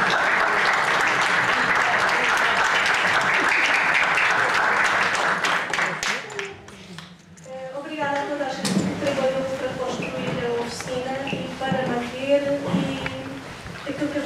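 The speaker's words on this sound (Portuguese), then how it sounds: "Palmas para a Vitalina." A crowd applauds loudly for about six seconds at a book launch, then the clapping fades and a person starts speaking.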